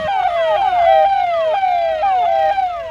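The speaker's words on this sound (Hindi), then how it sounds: "शाम होते ही वन विभाग की गाड़ियां सायरन बजाते हुए ऐलान करने लगती हैं।" Forest department vehicles in a village near a leopard-affected area sound a loud, continuous wailing siren that sweeps repeatedly up and down at close range, with no voices.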